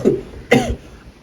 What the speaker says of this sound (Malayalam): ഓ, കിടന്ന് ചുമക്കാതെ, ഞാൻ പോയി വെള്ളം എടുത്തിട്ട് വരട്ടെ.